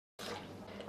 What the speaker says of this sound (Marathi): आता यामध्ये ना पाणी घालूया